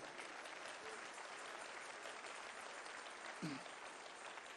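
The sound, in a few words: congregation applause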